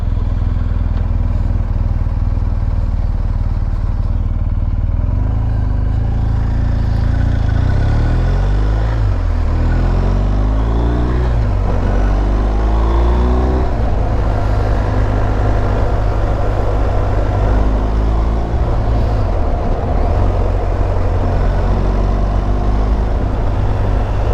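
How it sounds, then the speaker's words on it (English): A KTM motorcycle with an old RFS engine runs continuously, a loud, rough engine drone with shifting pitch as it revs and changes gears, heard up close throughout with wind noise. "That's one of the old RFS motors in that KTM."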